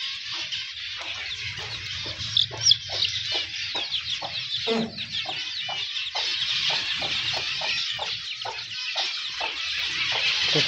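Chickens and chicks in an ornamental bird aviary, a dense continuous chorus of high peeping chicks with rapid repeated chirps, plus a few nearby hen clucks, steady and close, with no speech.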